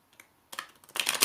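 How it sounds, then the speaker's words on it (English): Small playing cards are riffle-shuffled by hand: a short quiet pause, then a rapid, close burst of papery flutter and snapping that grows louder toward the end. "See how easily I shuffle these cards because they're little ones and my thumbs can manage them."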